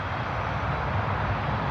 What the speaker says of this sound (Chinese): 好，这架飞机呢就降落完成了